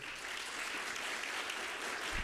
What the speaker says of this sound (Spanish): los despedimos con un fuerte aplauso, por favor